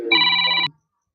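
A phone rings once, a bright electronic tone lasting just over half a second, fairly close, then cuts off into silence.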